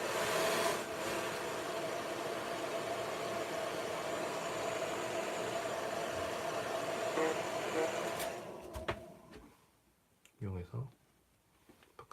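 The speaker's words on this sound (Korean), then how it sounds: "드라이기" A hair dryer blows with a steady, loud whooshing roar for several seconds while drying an R/C car body decal, then cuts off, leaving near quiet with a brief voice.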